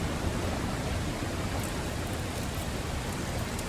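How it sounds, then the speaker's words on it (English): Steady rain falls without a break in the Nobody Wants to Die video game, a loud, even hiss with no speech over it. "And it's just raining"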